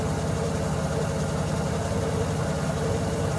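A 1984 Nissan 300ZX (Z31) engine idling steadily at around 510 rpm after sitting for ten years, a smooth, even, low rumble with constant vibration, recorded close up with no voices.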